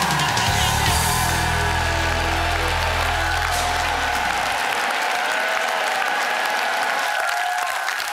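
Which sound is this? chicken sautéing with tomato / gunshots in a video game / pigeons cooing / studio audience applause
studio audience applause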